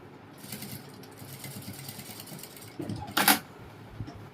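A sewing machine stitches a princess-cut blouse with a soft, steady mechanical whirr. A brief louder clatter comes near the end, and there is no talking.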